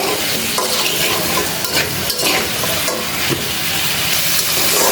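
Radish pieces are stir-fried with spices in a pan for a rui fish curry, producing a loud, dense, continuous sizzle close up with constant scraping and tossing throughout.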